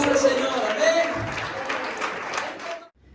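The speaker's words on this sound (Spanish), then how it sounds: "¿Qué le parece si le damos un fuerte aplauso al Señor?" A church congregation applauding during a worship service, a dense patter of clapping with voices mixed in that holds for nearly three seconds and then stops abruptly.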